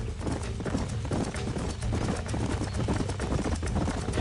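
Rapid, rhythmic hoofbeats of galloping horses in Red Dead Redemption pound continuously, close and fairly loud, with a faint neigh blending into the rumble.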